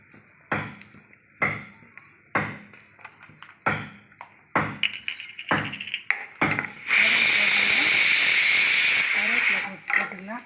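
Mustard seeds and dried red chilies dropped into hot sesame oil, first a series of sharp taps and clinks, then a loud, steady sizzling hiss that lasts several seconds before cutting off.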